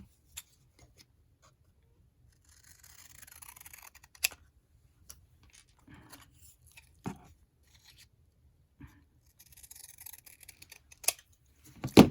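Scissors snipping paper pieces for a traveler's notebook, a sparse series of soft, close cuts and small rustles separated by quiet gaps, with a louder snip at the end.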